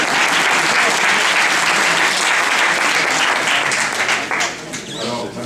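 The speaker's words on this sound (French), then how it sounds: "On applaudit encore pour le président de l'université" An audience at a university master's graduation gala applauds the university president with sustained, dense clapping that thins out slightly toward the end.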